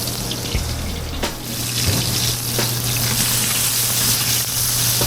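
Fish fillet sears in a hot pan, a dense steady sizzle and hiss running throughout, with a brief low clatter near the start as the pan is shaken.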